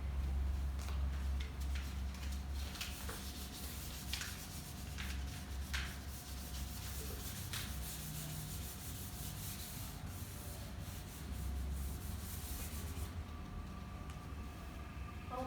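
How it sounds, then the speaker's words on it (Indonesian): An eraser rubs back and forth across a classroom board in repeated, fairly close scrubbing strokes over a steady hum, with no talking. "kakak hapus dulu ya dek papannya"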